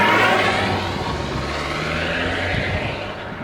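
A BMW 320d E92 diesel engine and exhaust with over 100,000 km run steadily, giving a continuous low drone with a whooshing, vacuum-like hiss above it and a slight fade toward the end.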